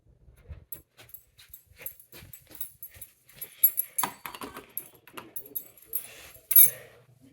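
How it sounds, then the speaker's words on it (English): A bunch of keys jangles and clinks in scattered, uneven bursts, close and fairly quiet, as they are handled and tried in a lock. "Maybe I should use these keys."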